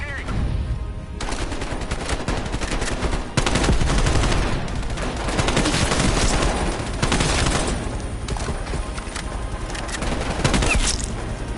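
Dense, sustained automatic gunfire from the Call of Duty Cold War campaign, with rapid bursts and booming shots layered into a loud, continuous barrage that barely lets up.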